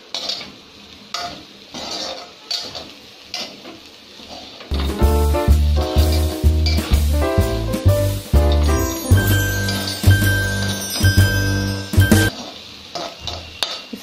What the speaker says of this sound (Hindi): अपने टेस्ट के हिसाब से अब प्याज डाल के हम इसे थोड़ा ओपन करके भून लेते हैं